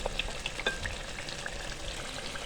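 Malai seekh kebab gravy fries in a pan, a soft continuous sizzle with faint crackles and pops close by, no voices.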